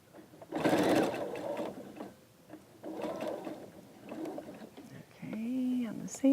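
A sewing machine stitches through thick layers of quilt fabric in a few short, rattling bursts, close and clear, with someone speaking briefly between runs.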